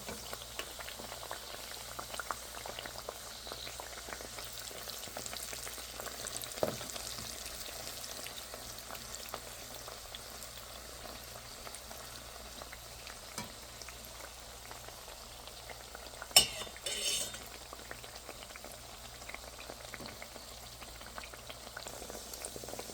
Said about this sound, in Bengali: এভাবে তেলের জাল কমিয়ে রেখে উল্টিয়ে পাল্টিয়ে ভেজে নেব।